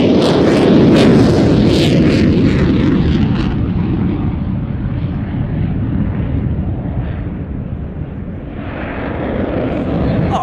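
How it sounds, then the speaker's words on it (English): A Eurofighter jet flies slowly into the wind, nose held high, at an air display. A loud, broad engine roar swells early, then eases into a sustained rumble, with some crackling bursts at the start. "Upping the Eurofighter ground speed to probably, as it's into wind, below 100 knots"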